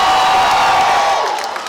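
Fan convention crowd at a San Jose fan fest cheering and whooping for the host, a dense, loud roar that holds steady and then begins to fade, with no speech over it.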